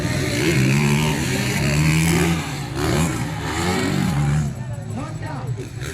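Honda 450cc motocross bikes rev hard at a race, with engines wailing and rising and falling in pitch over loud crowd and announcer talk.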